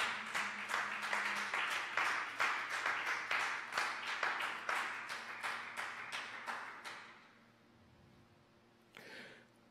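A church congregation claps in a steady rhythmic beat for about seven seconds, loud and close, then stops abruptly. A brief rustle follows near the end.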